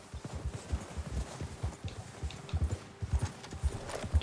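Horse hooves clip-clop steadily in a video game, a quick regular rhythm of hoofbeats on hard ground that runs throughout, close and clear, with faint game ambience behind and no talk.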